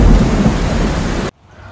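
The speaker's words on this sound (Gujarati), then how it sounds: "તલોદ મથક વિસ્તારમાં વાદળા ફાટતા વરસાદ વરસ્યો." Heavy cloudburst rain with thunder in the Talod area of Sabarkantha district: a loud, dense roar of downpour and rumbling thunder that cuts off abruptly into near silence.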